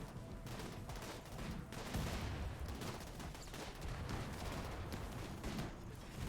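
A triple rocket launcher fires in RimWorld, a dense barrage of overlapping blasts and rumbling explosions, steady and continuous throughout, heard fairly faintly with no talking.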